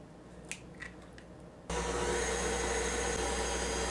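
An electric mixer switches on partway through and beats an egg into sugar cookie dough, a loud steady whir following a few soft clicks and taps.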